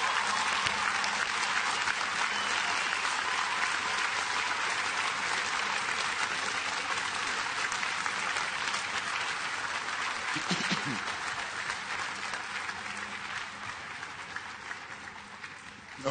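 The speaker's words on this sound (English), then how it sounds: "join me in thanking your loved ones with a resounding round of applause" A university commencement crowd at UMass Boston gives a long, roaring round of applause, a thick continuous wash of clapping that holds steady and then slowly eases off toward the end.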